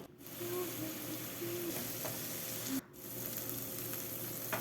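Spices and tomatoes being fried and stirred in a pan for a bread bhurji snack, a steady low sizzle with faint scraping, one brief pause near the end, no talking.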